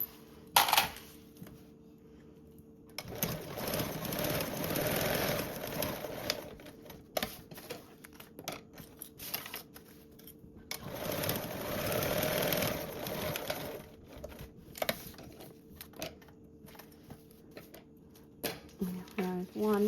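A sewing machine bastes fabric panels for a Pandora Charisma bag in two long whirring runs, each several seconds, separated by pauses with light handling clicks and taps.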